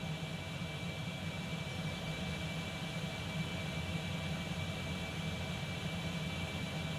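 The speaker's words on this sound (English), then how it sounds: "the engine sounds seem awful quiet inside" Concorde jet engines heard from inside the cabin in X-Plane 12, a constant, fairly quiet broadband roar with a faint steady whine, unchanging and without talk.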